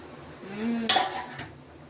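A metal pot lid clanks and scrapes as it is lifted off a pot of boiling bottle gourd and dal curry, a short close clatter with a faint ring, heard alone.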